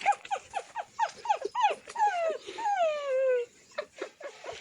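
A person mimicking a dog, a close run of whiny yelps and drawn-out whimpering cries that fall in pitch, then short yips, with a rough growly edge.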